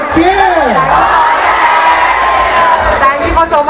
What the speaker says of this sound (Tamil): ஒரு பெரிய கைத்தட்டலோட let's welcome the founder